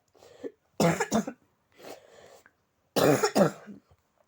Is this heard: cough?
yes